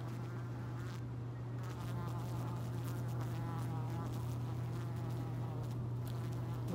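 A honeybee buzzes steadily during bee venom therapy, a constant close drone with faint fluttering variations and no clear speech.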